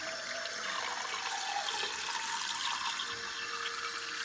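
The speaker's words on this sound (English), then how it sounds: "I'm just gonna fill this with water." A container with a small propeller is filled with water from a tap, a steady broad rush of running water close by for the whole stretch, with no one talking.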